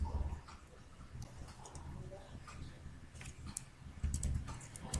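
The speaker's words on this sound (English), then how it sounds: "Here I type." Soft, irregular keystrokes tapping on a computer keyboard nearby, faint and scattered clicks over a low room hum, no voice.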